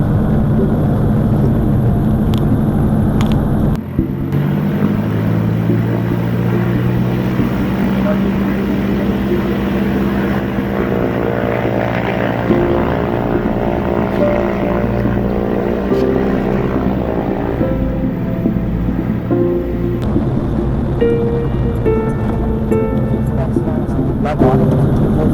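A propeller aircraft engine runs steadily as the plane readies to taxi, a loud continuous drone with shifting tones under frequent talk in the cockpit.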